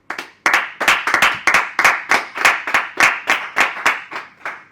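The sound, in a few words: people clapping, round of applause for Dan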